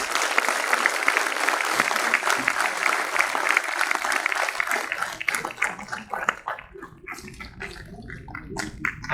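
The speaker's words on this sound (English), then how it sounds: "Round of applause for the prize winners." Applause from an audience at a National Safety Day prize ceremony: dense, steady clapping for several seconds that thins into scattered individual claps toward the end.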